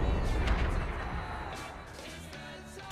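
Tank cannon shot in a video game from a T-34 Heavy, a loud blast at the start that rolls into a decaying rumble over about three seconds.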